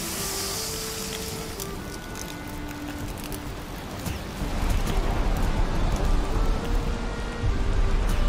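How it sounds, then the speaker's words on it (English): Steady rain in the survival video game Valheim, a dense continuous hiss that thickens and grows louder partway through, with no talking over it. "Here comes our first rain."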